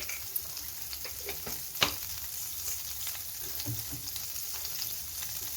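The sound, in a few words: mustard seeds sizzling in hot oil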